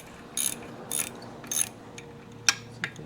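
Cylinder bolts being loosened on a 1975 Kawasaki KE125 two-stroke motorcycle with a ratchet wrench: three short bursts of close ratcheting clicks, then a sharp metallic snap and a final click in a quiet workshop.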